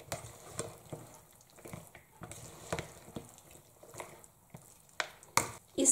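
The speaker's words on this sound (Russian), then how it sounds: "Тщательно перемешиваем все наши овощи." Eggplant salad vegetables are stirred with garlic and oil, giving soft, wet squelching and scraping strokes in an irregular rhythm, close and quiet, with a couple of sharper clacks near the end.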